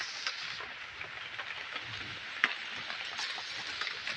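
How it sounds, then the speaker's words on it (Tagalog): Steady rain falls outdoors on leaves in a plantation, a dense even hiss with one brief louder patter, heard alone without voices. "Inaabot ako ng ulan dito mga guys."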